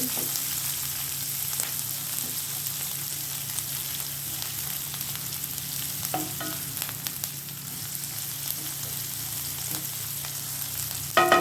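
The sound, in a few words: onions sautéing in oil for brinjal poriyal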